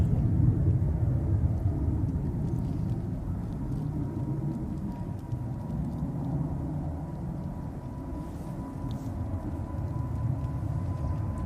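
An Emirates airliner on its takeoff run fills the air with a steady low jet roar and rumble, a faint whine riding above, constant and fairly distant throughout with no talking.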